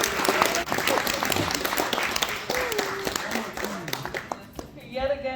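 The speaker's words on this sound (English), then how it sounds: "So if we could get a roaring applause for Dr." Loud audience applause at a Rachna Residency graduation ceremony for Dr. Kumar, thick continuous clapping with voices and cheering tones mixed in before it thins near the end.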